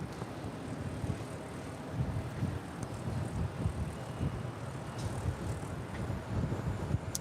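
An Airbus A321 airliner at LAX gives off a steady, broad jet rumble with airy hiss, moderately distant and continuous, with no voices.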